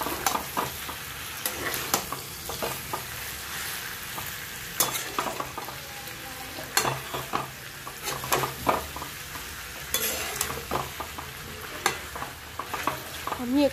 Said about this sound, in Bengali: ভালো করে নাড়িয়ে চাড়িয়ে নিতে হবে যাতে করে পেঁয়াজটা গলে যায় পটকের সাথে